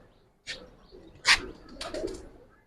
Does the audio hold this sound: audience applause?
no